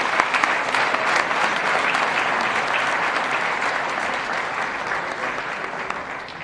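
Applause from the audience at a charter academy graduation ceremony for a graduate with perfect attendance, a full, sustained crowd clapping that fades slightly toward the end.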